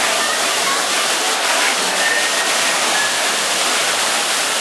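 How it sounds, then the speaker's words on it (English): Indoor waterfall at the Rainforest Cafe rushes in a steady, loud, broadband roar that fills the space without letting up, and no voices can be heard over it. "Feel the mist of the waterfall."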